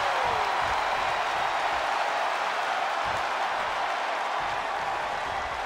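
An arena crowd roars in WWE 2K24, a dense, steady wall of cheering and applause that holds loud and unbroken from start to end, with faint commentary underneath.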